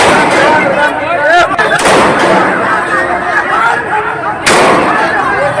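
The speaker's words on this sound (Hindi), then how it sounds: "पुलिस ने हवाई फायरिंग कर दी" Police fire guns into the air to control an unruly crowd in Bihar, India: loud sharp bangs burst out over dense, chaotic crowd noise and shouting.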